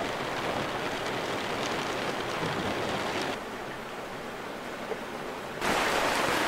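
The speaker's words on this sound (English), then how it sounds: "it's raining in Martinique this morning" Steady, hissing morning rainfall in Martinique, broadband and continuous, briefly dipping in level midway before returning louder; no voices.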